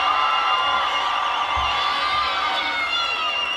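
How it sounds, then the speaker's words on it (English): A home crowd at a college gymnastics meet cheers and whoops continuously, a loud dense roar of voices with shrill shouts filling the arena throughout. "they're in front of a home crowd cheering them on"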